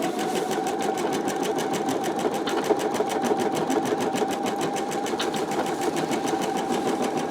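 An embroidery machine stitches a calico cats quilt held in a magnetic hoop, its needle pounding out a fast, even rhythmic chatter with a whirring motor hum, steady and close.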